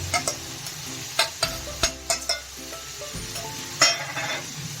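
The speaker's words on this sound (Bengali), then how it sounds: "চিংড়ি মাছগুলো বেশি ভাজবো না, শক্ত হয়ে যাবে" Shrimp frying in a pan for a Bengali jackfruit curry, a constant hissing sizzle punctuated by a series of crisp spoon clicks and scrapes against the pan, close by.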